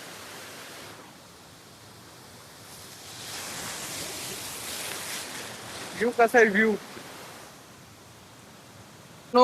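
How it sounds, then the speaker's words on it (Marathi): Rain beginning to fall outdoors in the Konkan countryside near shallow water, a soft broadband hiss that swells in the middle, with a brief burst of talk near the end. "पावसाची सुरुवात झाली"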